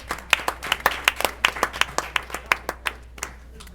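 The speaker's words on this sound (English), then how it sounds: "let's rise up and give ourselves a round of applause" Audience applause at a gathering on homelessness policy: a loose run of distinct, moderately close hand claps that thins out and fades after about three seconds.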